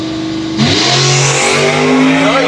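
A 1956 Chevy gasser drag car at Island Dragway revs hard near the start line, its engine note rising and swelling into a loud, sustained roar as it launches, with a second car alongside.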